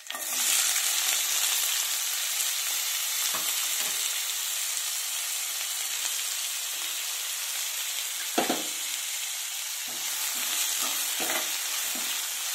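Sliced onions and green chillies sizzle in hot oil with mustard seeds and cumin, a bright, continuous frying hiss interrupted by a few scraping stirs of a spoon in the pan, close and steady, with no talking.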